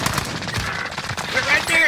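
Rapid automatic gunfire in the Call of Duty Warzone video game, dense bursts throughout under game effects and a player's voice.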